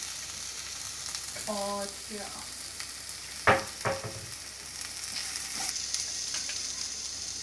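Baby potatoes and biryani ingredients sizzle and fry in a pan, with scraping stirs and a couple of sharp utensil knocks against the pan midway; a brief spoken word near the start.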